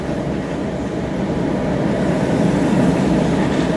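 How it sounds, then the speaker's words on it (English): A train runs on the rails at rush hour, heard as a steady, loud, low rumble and roar from inside or close by, with no break in the noise. "The train's running hard right now."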